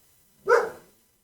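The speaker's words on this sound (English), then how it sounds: "It's my dog." A dog gives a single short bark, clear and fairly close, standing alone against a quiet background.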